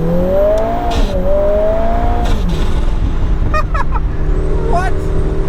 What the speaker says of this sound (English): And I love down low in the RPM when I downshift.